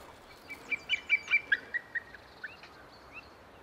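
Plaintive calls of large, elusive birds along a wild Dutch river, a series of about a dozen clear, evenly spaced notes over a couple of seconds, moderately distant, above a steady background hiss.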